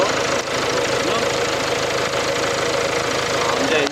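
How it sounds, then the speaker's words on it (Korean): An imported SUV's 2.0-litre engine idles steadily up close, a continuous low rumble with a faint ticking knock and no voices. "자, 엔진음 한번 들어보시죠."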